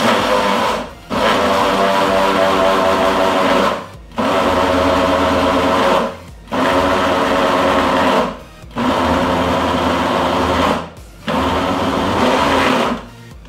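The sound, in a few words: food processor motor running in pulses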